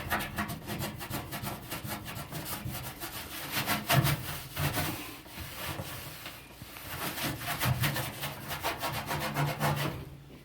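Continuous rhythmic rubbing and scrubbing close up as a Norwex cloth works over dirty spots inside an oven, with fast back-and-forth strokes that go on steadily.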